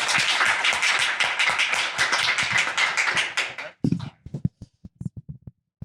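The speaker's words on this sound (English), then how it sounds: "let's give a big round of applause to our first founder." An audience bursts into enthusiastic applause, dense clapping that stops abruptly, leaving a few scattered claps dying out.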